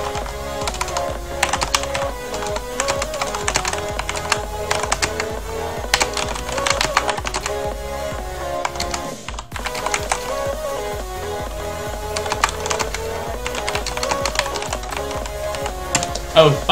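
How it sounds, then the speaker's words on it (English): Clicky typing on a Corsair mechanical keyboard runs steadily throughout, a dense patter of keystrokes sitting alongside game audio or music. "I have a mechanical keyboard, I have Corsair, just, like, hear the noise"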